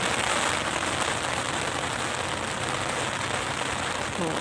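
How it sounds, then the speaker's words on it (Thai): Steady heavy rain pouring down at Lam Takhong Dam, a dense continuous hiss of drops drumming on surfaces, with no voices over it. "ฝนตกแรงเลยจ้า"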